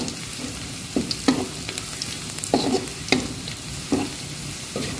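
Shallots and garlic being stir-fried in a pan, a steady sizzle broken by repeated scraping strokes of a spatula, close and fairly loud with no talking.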